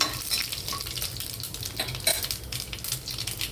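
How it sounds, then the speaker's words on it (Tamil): Mustard seeds crackle and splutter in hot oil in a pan, a dense continuous hiss of sizzling with small popping bursts throughout, close and fairly loud, no speech. "இப்போ கடுகு இதெல்லாம் எண்ணெய் நல்லா பொரியட்டும்"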